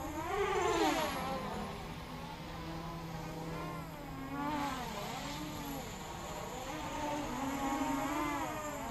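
Blade Mach 25 drone on a lipo battery punched to full throttle: a loud, steady, buzzing motor whine whose pitch sweeps up and down repeatedly, with no other sounds.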